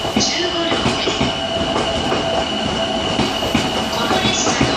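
An out-of-service Odakyu 30000 series train pulls away from Fujisawa station with steady rail rumble, faint wheel squeal and rhythmic clatter over joints, loud and continuous for the whole stretch.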